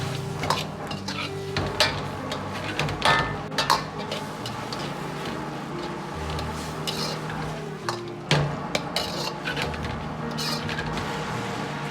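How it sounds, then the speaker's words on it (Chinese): Cauliflower stir-fried in a wok with salt, chicken bouillon, MSG and sugar gives off a steady sizzle, with a spatula clanking and scraping against the metal in quick repeated strokes close by. "快速翻炒均匀，炒好调料。"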